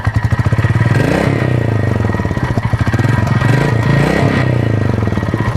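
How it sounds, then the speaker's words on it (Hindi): A Royal Enfield Meteor 350 motorcycle engine runs nearby with a loud, rapid, steady thumping idle, rising slightly in revs once or twice before settling. "बस इंजन स्टार्ट करते हैं"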